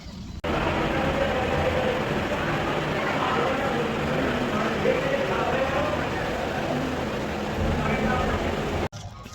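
A loud, continuous rumble and clatter of a moving train fills the space, with a voice faintly under the noise.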